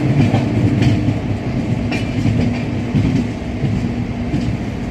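Udyan Express 11301, running from Mumbai CSMT to KSR Bengaluru, rolls along the rails with steady clickety-clack wheel beats and a constant rumble, heard from inside the moving coach.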